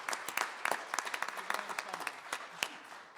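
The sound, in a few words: audience applause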